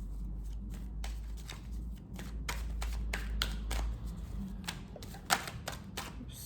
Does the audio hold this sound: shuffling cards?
yes